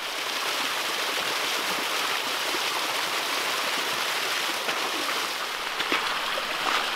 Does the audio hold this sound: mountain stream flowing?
yes